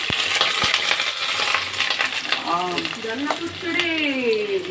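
Black cumin, onion and chili fry in a pan with loud, continuous spattering and crackling sizzle, a few sharp pops near the start, and faint voices in the background.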